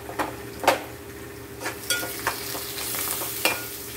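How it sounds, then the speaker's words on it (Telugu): Prawns and okra curry with curry leaves and coriander frying in a pan, a constant sizzle broken by repeated sharp spoon-stirring scrapes at an uneven rhythm. "ఇది బాగా ఫ్రై అయ్యే వరకు ఫ్రై చేసుకోవాలి"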